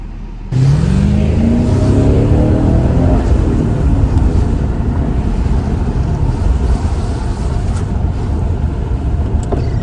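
A Mercedes CL500 engine starts and revs hard, pitch climbing then settling into a loud, rough roar that continues throughout with wind noise.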